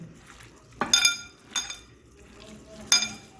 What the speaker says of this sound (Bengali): সর্ষের তেল দিয়ে মাখিয়ে নেব।